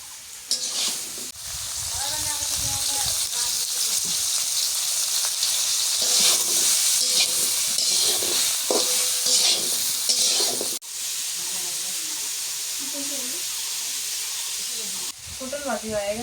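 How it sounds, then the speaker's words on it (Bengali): Pointed gourd frying in a pan with salt and turmeric, a loud continuous hiss and crackle with spatula stirring scrapes, close up and briefly dipping partway through. "এখন পটল গুলো একটু ভাজা নিই।"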